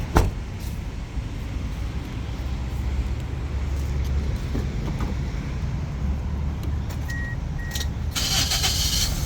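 A petrol Toyota Altis 1.8G engine cranks and catches near the start, then settles into a low, steady idle rumble, with a few clicks and a brief beep later.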